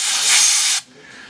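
Dental air syringe blowing a prepared tooth dry during gold inlay restoration work on a molar, a loud continuous hiss lasting under a second before cutting off.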